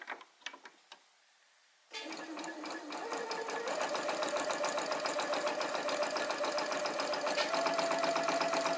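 A sewing machine stitching during a thread tension test with the upper thread pulled tight. After a few faint clicks and a brief pause, it starts and runs with a rapid, steady mechanical whir, close and continuous.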